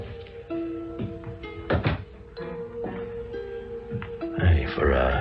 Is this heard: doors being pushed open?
yes